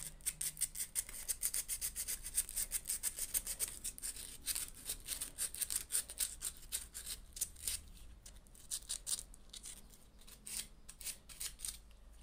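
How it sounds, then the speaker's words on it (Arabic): Fine sandpaper rubbed against an old ceiling fan switch part, a steady run of quick, close, dry scratching strokes that continues without any talk. "هجيب صنفرة ناعمة زي كده، وابتدي أصنفر"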